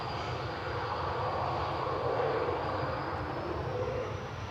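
EasyJet airliner taking off at Manchester Airport, a steady broadband engine roar holding at a moderate, distant level throughout the short stretch, with no voices over it.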